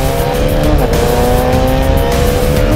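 Bajaj Dominar 400 motorcycle, a 373cc liquid-cooled fuel-injected single-cylinder engine based on the Duke 390, running loud and close with a steady droning exhaust note and slight pitch rises throughout.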